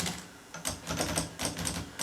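An Olympia typewriter's mechanism clacks in a quick, irregular run of sharp keystrokes and metallic strikes, close and fairly loud, with no voices.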